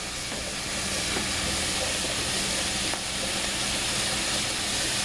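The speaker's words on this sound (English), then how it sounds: "All right, these are searing now. You can hear them." Shrimp sear in a hot pan with a loud, continuous sizzle and hiss that holds steady throughout, with small crackles scattered through it.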